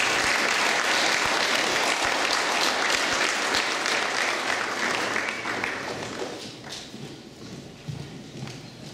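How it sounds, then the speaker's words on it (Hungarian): A crowd at a Gyula Termál FC youth football awards event applauds the team's coach, with dense, loud clapping that holds steady before thinning and fading toward the end. "És egy nagy tapsot kérnék szépen a csapat edzője, Démus Zsolt."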